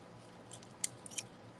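Scissors snip paper during a papercraft project, a few short, quiet crisp cuts in a near-silent room.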